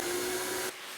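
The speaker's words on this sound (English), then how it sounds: "turn on the vacuum." A screen-printing vacuum table runs with a loud, steady blowing hiss and faint hum, then drops abruptly to a quieter, lower rush near the end, with no voices.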